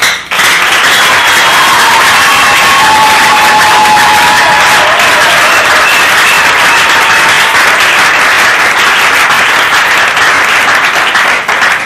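A large audience at a Bible conference claps and cheers loudly, a thick sustained roar of applause lasting nearly twelve seconds with scattered shouts mixed in.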